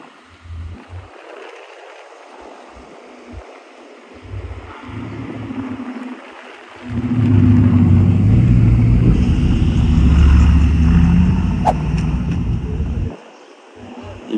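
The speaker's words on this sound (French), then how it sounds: "Une Bugatti escortée par la police." A Bugatti Chiron under police escort passes near the Miami F1 Grand Prix, a deep engine roar rising sharply and holding loud for several seconds before dropping away, with quieter traffic rumble before it.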